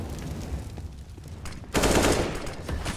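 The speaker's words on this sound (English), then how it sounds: "Good headshot from Shank" Rapid gunfire rings out during a Counter-Strike esports grand final match, with scattered shots first and then a louder close burst, played under a busy game background.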